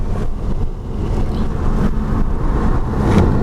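2014 Nissan Juke Nismo on a race track out lap, a loud, steady low engine and road rumble heard from inside the car.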